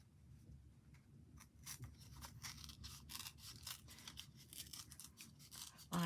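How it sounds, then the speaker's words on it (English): A piece of card is torn by hand into a snowdrift shape, giving a series of short, dry ripping and crackling bursts. The sound is close and quiet, with no voices. "I've got a piece of card here, and what I'm going to do is I'm going to rip it."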